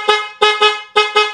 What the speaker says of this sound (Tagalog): Tapos ito naman yung loud horn.